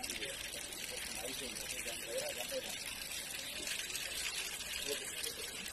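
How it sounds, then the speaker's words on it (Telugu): Floodwater from heavy rain flows in a steady broadband rush across submerged railway tracks between station platforms, continuous and fairly loud, with voices talking faintly underneath. "ట్రాక్ మీదకు వచ్చిన నీళ్లు ప్రవాహంగా ప్రవహిస్తుంది."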